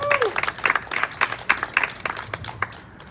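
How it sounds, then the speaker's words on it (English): A gathered crowd at a community awards event gives a short burst of applause, irregular claps close by, with faint voices mixed in. "a round of applause to each one of you"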